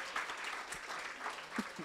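Audience applause at a talk on hope, resilience and recovery, a short steady wash of clapping at moderate distance with no one speaking over it.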